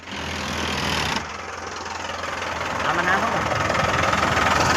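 A tractor engine idles during pesticide spraying at a brinjal field, a low steady rumble that briefly drops then builds again, with voices over it.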